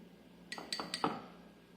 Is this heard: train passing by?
no